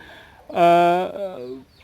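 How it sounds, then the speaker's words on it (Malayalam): A native country hen lets out a loud drawn-out cluck followed by a few shorter clucks, close by and clear against a quiet background. "ഇപ്പം എൻ്റെ നാടൻ കോഴികളാണ് ഇതേ ആ തൊഴുത്തിന് മുന്നിൽ നിൽക്കുന്നത്"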